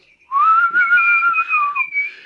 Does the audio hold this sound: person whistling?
yes